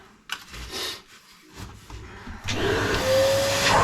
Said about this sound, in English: I'm just going to vacuum it.